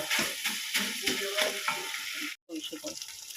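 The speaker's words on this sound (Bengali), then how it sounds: "তো তো দেখো বন্ধুরা, এখানে চিকেনটা ভেজে নিচ্ছি।" Chicken pieces frying in hot oil, a loud close crackling sizzle with irregular pops and stirring clatter, running steadily with a brief drop near the end.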